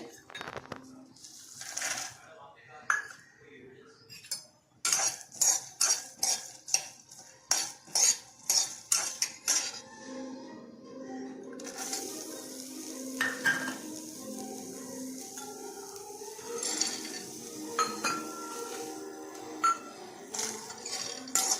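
Coconut, peanuts and whole red chillies dry roasting in a pan without oil: a busy run of metallic spoon clinks and scrapes against the pan, rattling pieces, then quieter scraping and stirring with faint sizzle.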